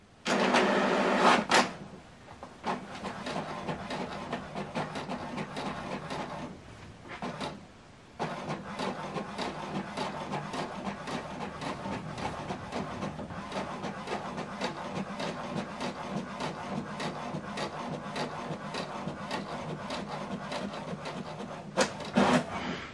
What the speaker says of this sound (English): So this is the document printed out double-sided from laptop to HP Deskjet printer.